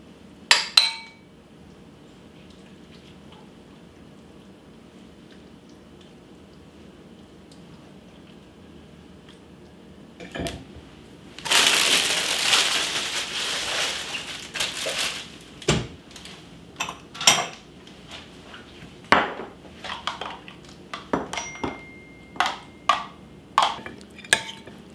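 Dishes clink while a slow cooker autumn harvest bowl is plated: scattered sharp clinks of plates and utensils, a burst of scraping and clatter midway, then a run of quick taps and knocks, fairly close.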